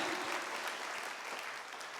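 A church congregation claps together in steady, dense applause, a sustained wash of hand claps filling the room throughout.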